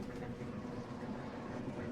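A train in the Resident Evil Zero video game rolls along with a low, steady rumble and faint rhythmic rattling, quiet and continuous with no voices.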